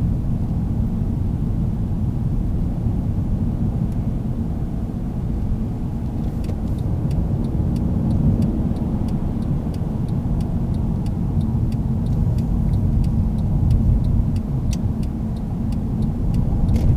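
Mercedes-Benz C220 CDI diesel sedan, a 2012 C-Class 2.1 BlueEfficiency with automatic gearbox, driving steadily under acceleration with a continuous low engine and road rumble, heard from inside the cabin, with faint ticks over the drone.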